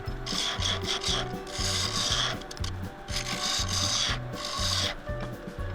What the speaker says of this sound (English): Starting here with the spindle gouge.